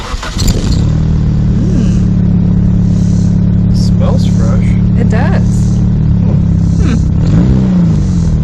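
A 2000 Nissan Sentra engine idles close by with a steady low hum and rises in several quick revs, while people talk briefly over the running motor.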